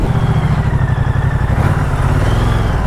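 A Moto Guzzi V100 motorcycle underway, its engine a loud, steady low pulsing throb with harmonic firing beats, close and continuous without voices.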